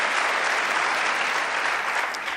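Steady, dense audience applause at a Kamala Harris 2020 campaign event, a continuous wash of many hands clapping without pause, close and loud, with no speech over it.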